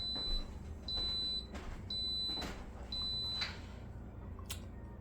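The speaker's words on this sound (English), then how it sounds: "It didn't beep yet, it's not ready." A new coffee maker signals that brewing is done with four evenly spaced, sustained high electronic beeps, followed by a brief click and quiet kitchen room tone.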